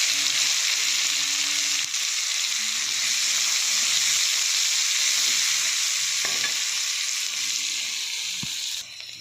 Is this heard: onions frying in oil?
yes